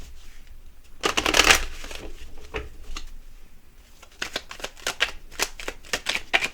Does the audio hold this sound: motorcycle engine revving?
no